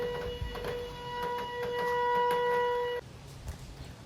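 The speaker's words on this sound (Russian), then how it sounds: "Сирена будет." A civil defense air-raid siren holds one steady, sustained tone for about three seconds and then cuts off abruptly, leaving only quiet background noise with faint knocks.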